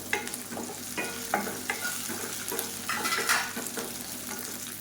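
Red chillies and tamarind sauté in a pan for a coriander leaf diet thokku, with a steady sizzle broken by several distinct scraping stirs of a spatula, close and clear, no talk.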